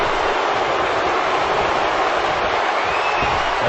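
A wrestling arena crowd roars in a dense, steady wash of noise that stays loud and unbroken throughout, with no clear individual voices standing out.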